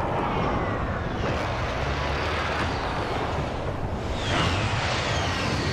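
A video game helicopter in Call of Duty Warzone: a steady, loud engine roar with whooshing rotor-like noise fills the scene continuously, swelling slightly near the end, with no voices.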